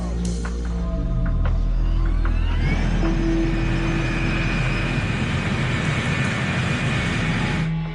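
A 747 freighter taxiing toward runway 3 on a crowded military taxiway, a loud continuous jet-engine roar and whine that rises in pitch partway through and holds steady before cutting off.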